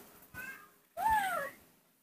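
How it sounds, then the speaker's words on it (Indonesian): A cat gives two meows nearby, a short faint one followed by a longer, louder rising-then-falling call, with quiet between. "Ada kucing tuh, kucing tuh."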